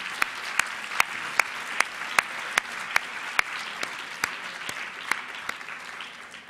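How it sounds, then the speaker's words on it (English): An audience at a literary translation awards reception applauds a prize runner-up, a dense, even patter of many hands clapping with a few sharp, close claps standing out, fading slightly toward the end. "Let's give him a round of applause."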